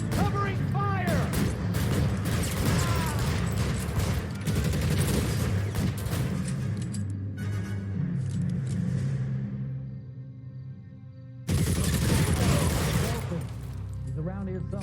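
Covering gunfire in the L.A. Noire video game: bursts of loud shots and rumbling blasts mixed with shouting voices, a quieter stretch with a lingering tone, then another loud burst of fire.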